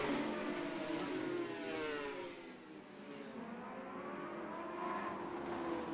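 A racing motorcycle at the Macau Grand Prix shifts up through the gears, its engine revving, dropping briefly and climbing again with a whining pitch, fairly distant and faint, no talk.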